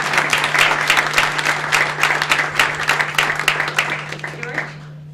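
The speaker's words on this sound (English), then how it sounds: "please give them all a big round of applause." Audience applause at a luncheon event fills the room, a steady dense clapping from many hands that holds strong throughout before tapering off near the end.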